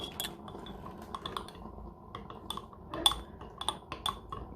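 Spoon stirring a dulce de leche iced coffee with espresso in a glass, rapid clinking and tapping against the glass and ice, irregular and close, with no talk.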